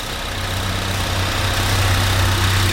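A 2012 Acura TSX Special Edition idles just after startup, a steady low engine hum with a faint higher whine, close and unbroken for the whole stretch with no talk.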